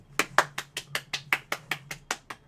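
A single person clapping in a small room, about a dozen close, crisp handclaps at a steady, quick rhythm, each one distinct, with no other voices.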